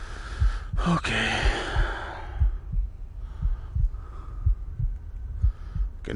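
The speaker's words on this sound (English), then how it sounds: "I can hear my heartbeat." A heartbeat sound effect in a paranormal horror video game, deep thumps pulsing in a steady rhythm after a brief burst of noise, alone and fairly close.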